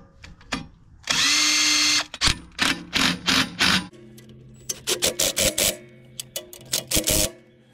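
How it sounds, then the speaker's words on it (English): A power drill bores into a metal bracket for a tractor GPS mount, whirring in one sustained burst, then in a run of short, sharp spurts with brief pauses, close and loud. "drill the initial hole, and then go ahead and drill the proper sized hole"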